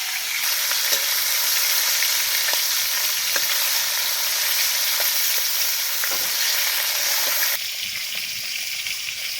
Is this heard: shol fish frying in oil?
yes